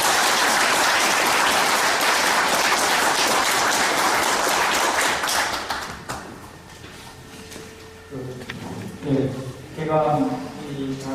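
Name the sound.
audience applause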